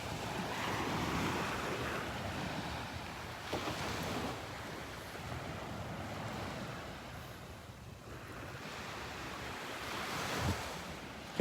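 Surf washing onto a sunny beach at Delnor-Wiggins, with steady wind buffeting the microphone and waves swelling and breaking in soft repeated surges.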